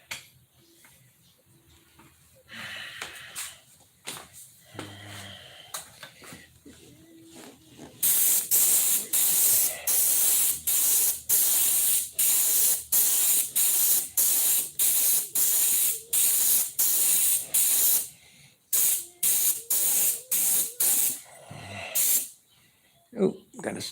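An air spray gun fed by a hose sprays paint to blend and lighten a dark spot, bursting into a loud, steady hiss in a long run of short pulses after quieter stretches with some talk.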